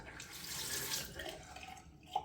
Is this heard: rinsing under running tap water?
yes